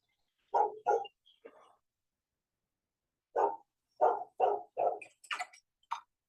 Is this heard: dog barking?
yes